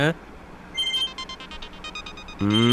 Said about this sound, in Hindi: हाँ, फिर से डैड का फोन है।